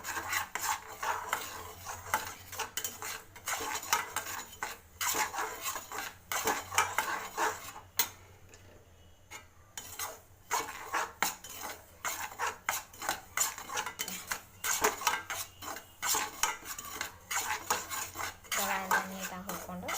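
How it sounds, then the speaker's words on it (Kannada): A metal spoon scrapes and stirs dry semolina around a pan as it roasts for upma, in steady, uneven strokes, with a brief pause midway; no talking. "ಹಾಗೆ ಹುರ್ಕೊಳ್ಬೇಕು ರವಾನ"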